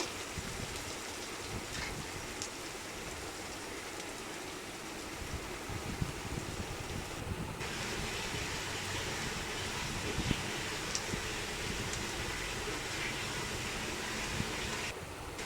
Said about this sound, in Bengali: তেল গরম হয়ে গেছে, শুকনো লঙ্কা আর কেটে রাখা পেঁয়াজ দিয়ে দিচ্ছি।